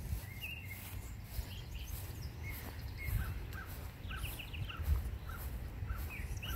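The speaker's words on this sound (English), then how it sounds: "Birds sound good." Birds calling outdoors in a garden on a quiet morning, a scatter of short chirps and a few crow-like caws at moderate distance over a steady low outdoor rumble.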